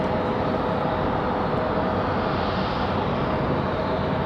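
An Airbus A220 airliner climbs out after takeoff from Raleigh-Durham International, a steady, loud, broadband jet roar that holds unchanged from start to finish with no talk.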